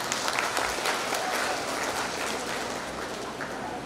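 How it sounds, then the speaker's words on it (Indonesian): Applause at a university graduation ceremony, dense steady clapping from a large audience in a hall, sustained at even loudness throughout. "Tepuk tangan."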